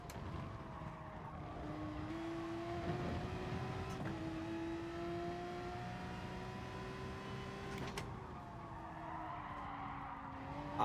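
A car engine whines and shifts pitch steadily in Gran Turismo Sport, with sharp brief clicks as the driver brakes too late into a corner; continuous, moderately loud game audio with no talk.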